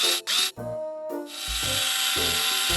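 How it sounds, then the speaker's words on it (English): A screwdriver drives fasteners into bunk bed boards during assembly, giving a close, loud ratcheting whir with short stops and starts, then a longer continuous run. No one speaks. "Star, this is not how you work a screwdriver"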